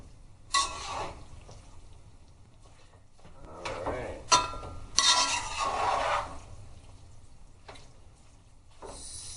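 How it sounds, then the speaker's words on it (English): Ground meat for a family-sized spaghetti sauce browns in a pan, with irregular bursts of stirring and scraping against the pan over a low steady cooking noise. "that meat's getting nice and brown there"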